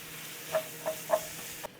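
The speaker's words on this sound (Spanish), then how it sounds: "Sofreímos, punteamos con un poquito de sal para que sude más rápidamente, se pochen más rápido las verduras, la carne." Vegetables and meat for a cabbage roll filling fry in a pan with a soft steady sizzle, punctuated by three or four quick stirring scrapes, close and fairly quiet.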